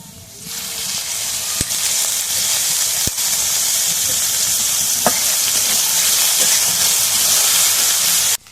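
Oil hits a hot pan for a cooking dish with green chillies and onion, frying in a steady, loud sizzle and hiss that rises at the start and runs throughout, with a few sharp pops and clinks breaking through.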